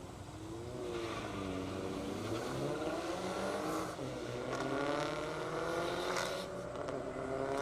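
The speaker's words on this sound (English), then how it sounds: "Little Mopar 4-cylinder against V8 action side by side right now" A 500-horsepower Dodge Neon SRT4 four-cylinder and a Dodge Challenger V8 drag race side by side on a half-mile airport strip in Indiana. Both engines rev and roar steadily through rising gear pulls, heard from a distance.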